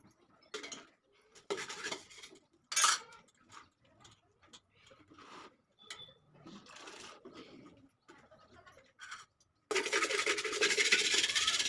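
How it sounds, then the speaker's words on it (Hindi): Pots, a cooking pan and utensils are scrubbed and clanked together by hand at an outdoor village washing spot after cooking rotis on a clay stove, with intermittent scraping and clinks, some rustle, and a steady wash of running water at the end. "और इधर हम आ गए थे फिर बर्तन साफ़ करने के लिए"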